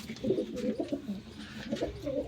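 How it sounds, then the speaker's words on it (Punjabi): Soft, low pigeon coos repeating in a short rolling series, close by, with faint background ambience. "ਇਹ ਕਬੂਤਰ ਬੜਾ ਤੰਗ ਕਰਦਾ ਏ"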